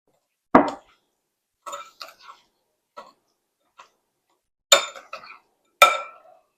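Spoon scraping and clinking in a bowl while lumpy pie filling with butter is stirred together, several separate close knocks and scrapes with quiet pauses between them.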